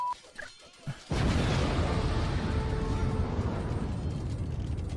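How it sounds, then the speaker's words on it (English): Video game explosions erupt in a sudden loud crash after a quiet second, followed by a dense, sustained rumbling roar that slowly tapers off. "That was a lot of explosions."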